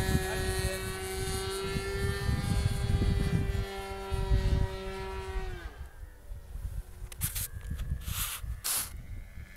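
Radio-controlled model airplane engine idling high on a ranch airfield, a steady buzzing drone that drops in pitch and loudness as the idle is cut back, followed by a softer, rougher idle with brief gusts of outdoor noise.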